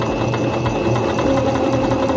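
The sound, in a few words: Singer C5605 electronic sewing machine stitching fabric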